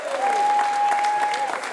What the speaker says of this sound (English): For many, that's just the sound of people clapping.